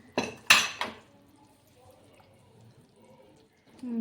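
Metal pot lid lifted off a pot of simmering mutton curry at home, giving a few sharp clanks and clinks up close, followed by a quiet bubbling background.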